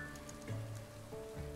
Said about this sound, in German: Wow, es regnet.